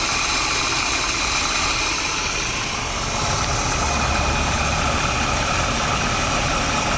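A 1979 Chevy G20 custom van sits idling steadily, its engine giving a continuous, even low rumble with broadband noise throughout, no voices over it.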